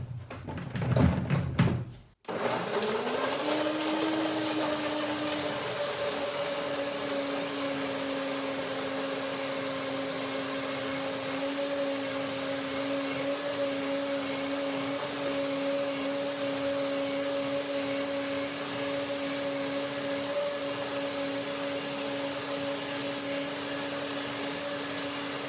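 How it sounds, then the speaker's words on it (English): After a thud and brief clatter, a blender blending raspberry, banana and hemp hazelnut cream whirs up and runs steadily at a constant high-pitched drone, close and unbroken for a long stretch. "So blender dance."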